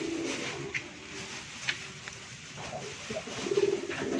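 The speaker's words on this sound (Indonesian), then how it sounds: "Ini merpati punya Mang Doyok nih, bawa langsung dari Ciamis" Pigeons in a loft, newly brought from Ciamis, give soft low coos in short phrases, with a clearer run of cooing near the end over a steady background hum.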